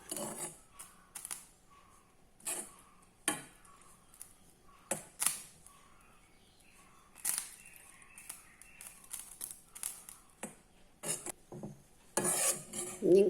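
Bread crumbs are stirred as they roast in a pan, giving sharp, irregular scrapes and clinks of a utensil against metal between quieter gaps, close by and fairly loud, with no talking.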